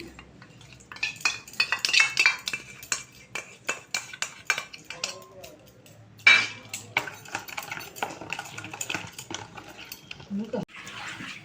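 Hilsa fish is mixed into a mustard spice paste, with a steady run of wet stirring, scraping and utensil clinks against a bowl. A voice speaks quietly at moments.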